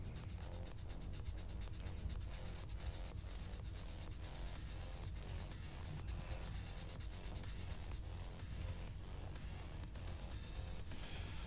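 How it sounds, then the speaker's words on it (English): Steady, rhythmic rubbing strokes of sandpaper smoothing raised ejector marks on a small plastic scale-model part, close and fairly quiet, with no voices. "There's some raised lips on these ejector marks that I'm sanding down."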